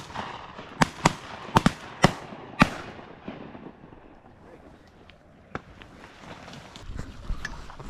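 Sharp shotgun blasts ring out during a mallard duck hunt on a remote mountain river, a rapid volley of about seven shots followed by a few scattered later reports, with voices talking in between.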